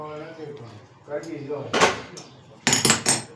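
Sweet wheat flour sheera made with ghee being spread across a metal dish with a spatula, giving a few scraping clinks and knocks, with a voice talking through much of it.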